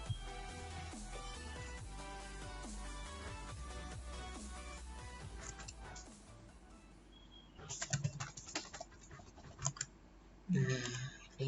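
Code being typed on a computer keyboard, with a tonal stretch giving way to irregular bursts of close, crisp key clicks in the second half.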